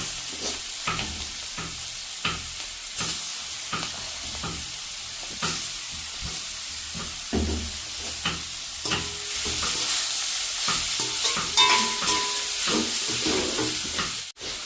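Grated raw papaya sautés in a pan, a continuous sizzling hiss broken by repeated scraping and tapping of a stirring spoon at close range, with the sizzle swelling midway.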